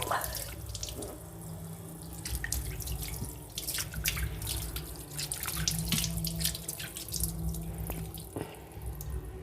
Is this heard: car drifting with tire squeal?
no